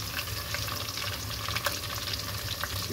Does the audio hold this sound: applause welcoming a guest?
no